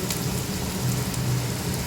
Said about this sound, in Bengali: আর এখানে এই যে পেঁয়াজগুলো এটা ভাজা হচ্ছে